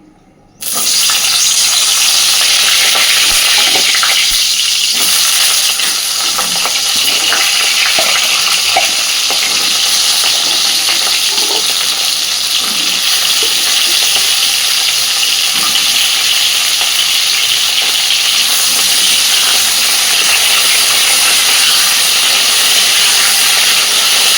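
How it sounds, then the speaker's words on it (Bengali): Pointed gourd (potol) pieces fry in hot oil in a wok, giving a loud, steady, dense sizzle that runs unbroken throughout, with occasional stirring scrapes and no talk. "এইবার পটলগুলো আগে সুন্দরভাবে ভেজে নেব"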